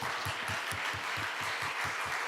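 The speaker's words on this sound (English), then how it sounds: "have all of the moms that are here today, if y'all could stand up just real quick so that we can just applaud you and celebrate you today" A church congregation applauds the mothers standing for Mother's Day, and the clapping comes as a steady patter of claps with regular pulses. It fills a roomful of people, close and continuous, with no voices over it.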